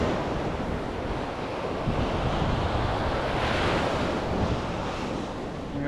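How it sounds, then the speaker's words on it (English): High ocean surf breaks on a beach in a steady, continuous roar. Wind buffets the microphone over the crashing waves. "So you can see there is high surf today, very few shells."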